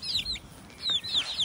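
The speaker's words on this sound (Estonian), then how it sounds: "Kanad tulevad ka vaatama, et what's up." Backyard chickens cluck softly nearby in short, chirpy bursts, several quick calls with brief pauses between them, over a low outdoor background.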